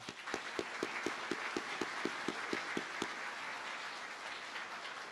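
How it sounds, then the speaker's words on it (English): At a graduation ceremony, scattered audience applause rings out in a hall, with a few distinct claps sounding out in a regular rhythm over a soft wash of clapping that fades toward the end. "Let's give them a round of applause as well."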